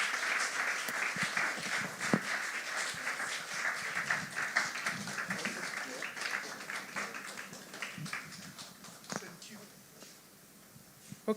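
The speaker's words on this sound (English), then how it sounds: "Clap for them." An audience applauding speakers as they leave the stage, sustained dense clapping that tapers off near the end, with scattered voices murmuring underneath.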